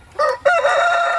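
A Shamo Aseel gamefowl rooster, a two-time fight winner, crows loud and close in the Philippines, a short opening call then a longer sustained crow with no talk over it.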